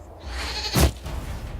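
A goat in Dragon Age: Inquisition bleats once, a short nasal cry that stands out over a quiet background of low ambient hum.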